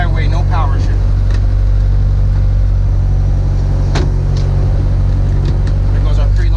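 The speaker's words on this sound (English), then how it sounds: "Here goes a preload and a launch" A car sits on a preload before launching for a flat-shift pull, its engine droning loud and steady at high revs with low rumbling exhaust and a few sharp transient bursts.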